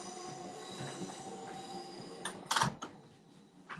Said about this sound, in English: That whole train came, I couldn't hear nothing.